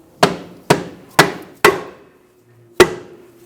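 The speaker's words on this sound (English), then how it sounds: "Using a soft face hammer, we're going to help tap the ball joint in." Five sharp soft-face hammer taps on a ball joint, four in a quick even rhythm and one more after a short pause, close and clear.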